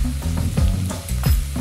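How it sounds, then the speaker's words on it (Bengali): Chicken keema frying with salt, turmeric, roasted coriander, roasted cumin and red chilli powders in a pan over medium heat, a steady close sizzle with stirring scrapes, no talk. "আমরা এটাকে 1 থেকে 2 মিনিট মিডিয়াম হিটে রান্না করব, যতক্ষণ না পর্যন্ত এই মশলাগুলোর থেকে তেল বেরিয়ে আসছে।"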